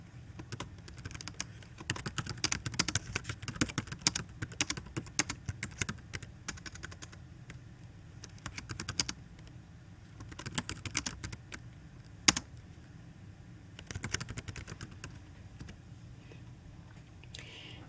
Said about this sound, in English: And then type in your question text.